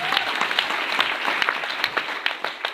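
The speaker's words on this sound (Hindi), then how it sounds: "जोरदार तालियां की।" An audience at a company talk breaks into loud, sustained applause, many hands clapping densely and close, with scattered sharper claps standing out as it continues.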